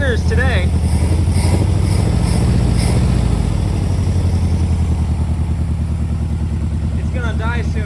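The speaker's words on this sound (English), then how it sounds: "It's idling by itself, and I just started it off of the regular 6-volt battery" The air-cooled engine of a 1963 Volkswagen Beetle ragtop idles steadily on its own, a close, loud, even rhythmic putter running throughout while someone talks over it.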